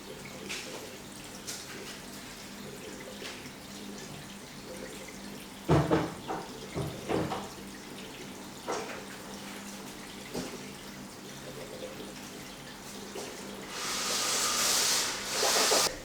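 A rock lowered into the water of a reef aquarium during aquascape building, with a cluster of splashy sloshes and drips midway, then a louder rush of bubbling water toward the end over a constant background hum.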